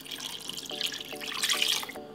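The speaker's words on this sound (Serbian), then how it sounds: "nalijet ću litar vode" About a liter of water runs into a pot holding chicken skin and bones for broth, a close splashing stream with gurgling bursts that cuts off near the end, no talk.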